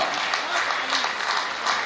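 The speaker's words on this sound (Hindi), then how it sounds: "जोरदार तालियों से लगातार स्वागत करें, अभिनंदन करें माननीय मुख्यमंत्री जी का" A crowd at a public function applauds to welcome the chief minister. Brief, steady, broadband clapping is heard at moderate loudness, with voices blended underneath.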